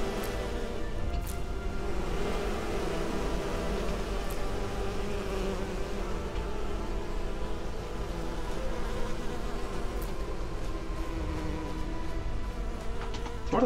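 A swarm of insects buzzing around a hive in the game Enderal, a dense, steady droning hum that runs without a break at moderate loudness, with faint occasional clicks and no talk.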